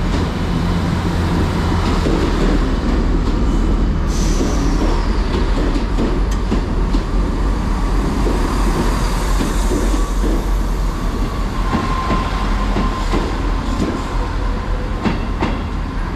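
Loud rumbling train noise at Exeter St Davids station, steady wheel and engine drone with occasional clanks and a brief high squeal, no voices.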